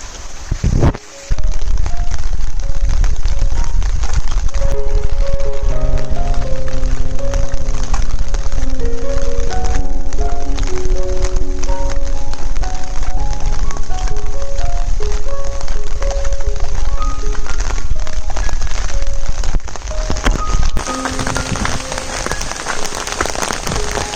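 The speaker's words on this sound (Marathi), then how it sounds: "संध्याकाळ झाली आणि बरोबर संध्याकाळी चालू झाला पाऊस" Evening monsoon rain pours down in a Konkan village near a river, a loud, dense, continuous hiss of drops on surfaces with tonal sounds ringing faintly underneath.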